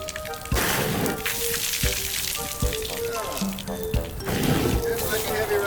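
Water splashing and pouring onto Sattler marine fabric, meant to mimic rain, a bursty liquid rush close by with people talking over it.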